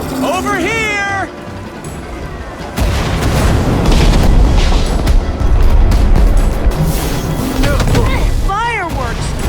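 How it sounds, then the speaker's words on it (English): Fireworks explode in the Minecraft: Story Mode video game, a loud sustained booming, crackling barrage filling the middle of the clip, with high wailing, squealing cries at the start and end. "Fireworks!"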